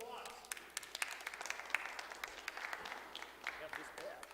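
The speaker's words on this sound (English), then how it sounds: "Let's give him a nice round of applause." An audience at a church family faith formation gathering claps in a moderately loud burst of applause, sustained and steady throughout.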